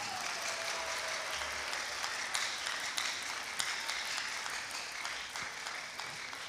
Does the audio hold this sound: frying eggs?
no